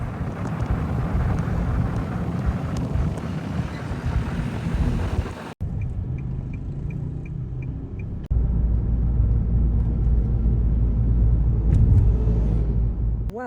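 Car interior on an evening drive to Cognac: a steady low road rumble with wind noise, a brief drop partway, then a louder, heavier rumble resumes.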